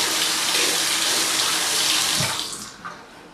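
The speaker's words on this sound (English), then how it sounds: "I'm going to wet the brush with warm water" A tap runs warm water over a makeup brush in a sink, a steady loud splashing rush that eases and thins out toward the end.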